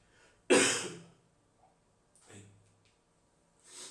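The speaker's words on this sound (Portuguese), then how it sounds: "tive que pausar aqui para dar uma tossida" A single man gives one sharp, loud cough up close, then clears his throat softly and takes a breath before a final faint exhale, with quiet pauses between.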